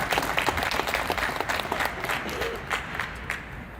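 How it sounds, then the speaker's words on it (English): Applause from the audience at a pre-fight boxing press conference in Detroit, a brief burst of steady clapping that continues through the whole few seconds. "Give him a round of applause."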